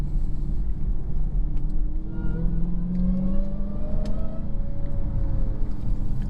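A 797 hp Dodge Charger Hellcat's engine drones and rumbles steadily from inside the car while driving in the canyons, a loud low roar with rising whine as it pulls.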